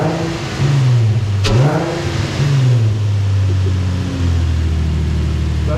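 A Nissan 350Z with a DC Sports short ram intake revs loudly and close, rising sharply then settling into a steady, slowly falling engine drone.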